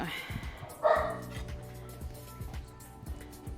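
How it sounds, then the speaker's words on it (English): A dog barks once, fairly close, in a kitchen while food is being prepared, with a few softer yips after it and low background sounds around it. "The dog is a barking."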